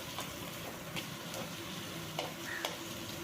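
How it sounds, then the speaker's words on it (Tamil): Shredded cabbage and carrot sauté in a pan with a steady, close sizzle, while a spoon stirring and scraping adds scattered clicks and taps. "இது ஒரு கேரட் போட்டுக்கலாம், அதையும் நல்லா வசக்கிக்குவோம்."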